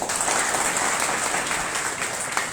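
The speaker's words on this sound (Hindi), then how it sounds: "इनके लिए एक बार जोरदार तालियां बजा दें।" A meeting audience claps loudly for first-time attendees, a thick, continuous wash of applause from a large crowd filling the whole moment.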